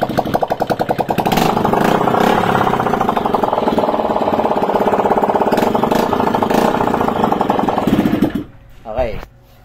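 A Honda Click V3 motorcycle engine, being troubleshot after a no-spark ignition coil fault, runs loud and rough with a noisy exhaust and a steady rapid pulsing, then cuts out near the end.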